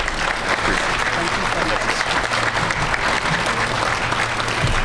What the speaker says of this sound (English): Please join me again in a round of applause